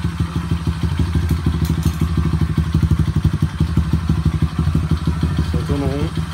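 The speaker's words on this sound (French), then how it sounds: "le KLX tourne" A Kawasaki KLX110 motorcycle engine runs just after its first start, chugging in a fast, even thumping rhythm close by, with a few brief higher sounds near the end.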